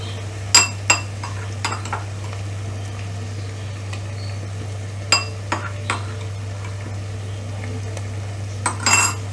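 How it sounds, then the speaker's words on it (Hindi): Spoon stirring sautéed onions with ginger garlic paste in a pan for aloo matar, sharp metal scrapes and clinks scattered over a steady low hum, with quiet sizzling between strikes. "चम्मच को साथ साथ हिलाते रहें"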